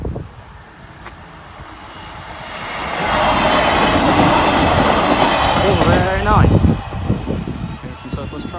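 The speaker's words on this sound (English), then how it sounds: "Train's approaching." A train passes the Boultham level crossing, its low rumble swelling after a few seconds into loud rolling clatter with a brief wheel squeal. A voice speaks briefly near the start.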